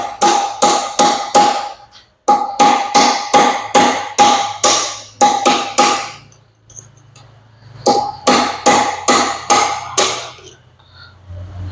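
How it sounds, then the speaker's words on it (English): Aluminum punch struck repeatedly with a hammer against a John Deere hydraulic lift cylinder gland, loud sharp metallic blows in quick bursts of four to six, with short pauses between bursts. "I'll take my aluminum punch and hit the gland backwards"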